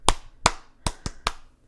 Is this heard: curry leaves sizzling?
no